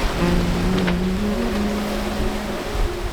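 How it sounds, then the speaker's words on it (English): A sailboat making about eight knots through rough, short offshore swell gives a loud, continuous rushing of water along the hull, with low droning tones and occasional splashes. "the waves are getting shorter, sharper and disorderly"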